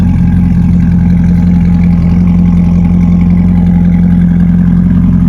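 A C8 Corvette with straight pipes and its exhaust valves removed idles close by, a loud, steady, deep rumble with a constant low drone and no change in pitch.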